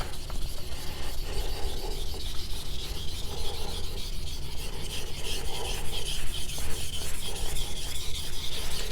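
A steady, continuous scraping rasp of a blade drawn back and forth across a whetstone, fairly close and even, with no voices.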